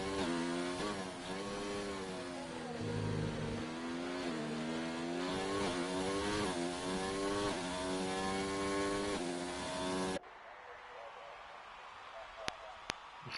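A Williams Formula 1 car's engine screams at high revs in the F1 2019 racing game at the British Grand Prix, a loud continuous whine with rising and falling pitch through gear shifts, cutting off abruptly near the end into quieter background noise.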